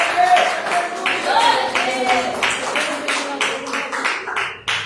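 A church congregation claps in a steady, rhythmic beat to welcome a woman to the front, the claps loud and close with voices mixed in.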